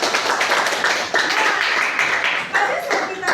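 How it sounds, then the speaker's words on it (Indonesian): A class of students claps for their classmates in a school lesson, a short burst of lively applause under and around a teacher's voice. "terima kasih dong, tepuk tangan buat teman-teman."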